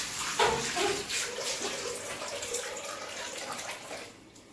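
Water runs from a tap into a bucket as it fills, a steady close splashing rush with watery gurgles that carries through and eases slightly near the end.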